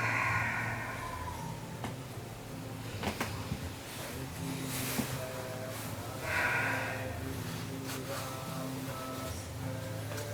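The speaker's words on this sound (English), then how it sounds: "Two more big breaths. Even open mouth, exhale." Two big open-mouthed exhales during a yoga session, soft breathy whooshes heard near, separated by quiet rustling and faint room noise.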